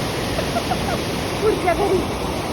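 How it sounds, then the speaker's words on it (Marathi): The flooded Bhogavati river, in its first major flood, rushes past with a loud, constant roar of churning water, while voices murmur faintly underneath. "पाणी बघ किती नदीला"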